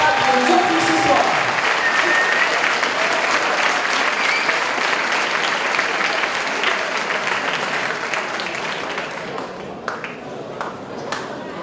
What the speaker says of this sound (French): je crois qu'on peut encore une fois les applaudir pour le courage et pour le spectacle qu'ils nous offrent ce soir